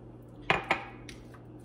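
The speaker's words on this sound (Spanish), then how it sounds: "Voy a mezclar bien los camarones, voy a mezclar bien todo." Two quick clinks of a utensil against a bowl as raw shrimp are tossed with marinade, followed by a fainter scrape, close and fairly quiet.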